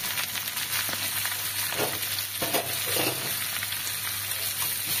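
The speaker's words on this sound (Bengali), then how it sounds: "কড়াইতে তেল বসিয়ে দিলাম, তেলটা গরম হয়ে গেছে। এখন এক এক করে দেখো কাঁঠালগুলো দিয়ে দিলাম" Jackfruit pieces fry in hot oil in a wok with a continuous sizzle and crackle, and a few splashy bursts break through as pieces go in.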